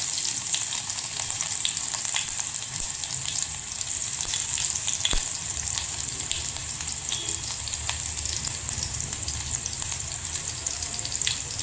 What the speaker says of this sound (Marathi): जिरं व्यवस्थित फुलून द्यायचं आणि त्याच्यानंतर घालणार आहोत 5 ते 6 लसणाच्या पाकळ्या, ज्या मी ठेचून घेतलेल्या आहेत त्या घालायच्या आहेत